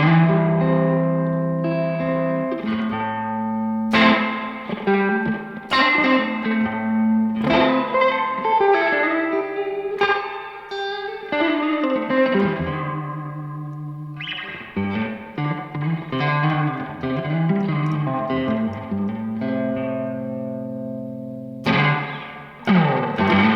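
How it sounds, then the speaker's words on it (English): Electric guitar through a spring reverb pedal on a studio pedalboard, strummed chords and notes ringing out with a short slapback echo and a splashy spring tail, loud and alone. "Just kind of got that slap back spring sound to it."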